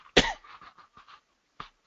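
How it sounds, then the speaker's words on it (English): A single sharp cough bursts out loudly, followed by a few softer breathy throat sounds and one small cough near the end, recorded close in a quiet room. "Excuse my occasional cough here."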